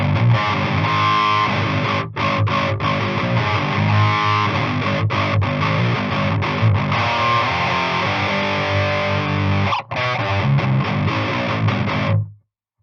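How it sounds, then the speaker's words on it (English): Heavily distorted electric guitar through a Joyo Zombie distortion pedal, playing sustained chords and riffs, loud and continuous with a couple of brief breaks, ending abruptly. "this unit has a pretty cool distortion just in-house"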